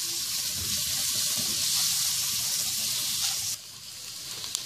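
Green chillies sizzle with onions in oil for a beef white karahi, a dense, continuous frying hiss that eases slightly near the end.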